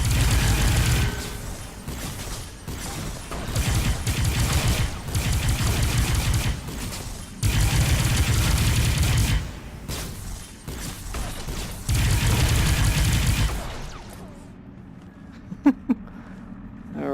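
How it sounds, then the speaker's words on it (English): Enemies fire at the player in the VR game Experiment Gone Rogue. Dense, loud, continuous volleys of gunfire come in long bursts with brief lulls, then fade to quiet with a few faint clicks at the end. "Who the heck is shooting at me?"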